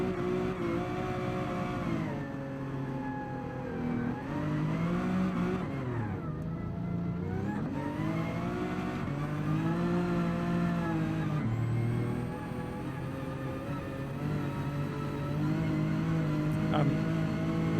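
Race car engines in Gran Turismo 7, a continuous whining drone that rises and dips in pitch as the cars accelerate and brake through corners, steady and moderately quiet with a voice talking over it.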